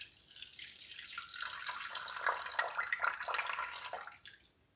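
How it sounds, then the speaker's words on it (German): Eighty grams of water is poured onto two eggs in a Thermomix mixing bowl, a soft, close splashing stream that builds for a few seconds and then tapers off to stillness. "Dann kommt 80 Gramm Wasser dazu."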